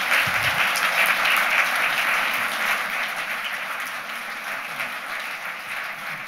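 Audience at a Bowdoin College library lecture applauding to welcome antiquarian bookseller Don Lindgren, steady loud clapping from a crowd that slowly tapers over six seconds.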